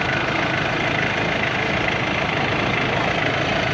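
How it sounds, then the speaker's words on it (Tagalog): Ford Ranger engine running after repair of a stalling fault, a continuous steady idle hum with faint vibration, close and alone. "So ayan, maandar na po yung ating engine."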